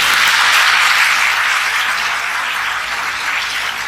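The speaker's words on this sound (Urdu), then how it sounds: "تو لوگ تالیاں بجا رہے ہیں" An audience at a religious lecture applauds, a dense, steady wash of many hands clapping that stays loud throughout, slowly tapering slightly toward the end.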